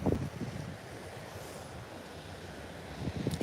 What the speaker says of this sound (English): It's windy everywhere on the Broads at the minute.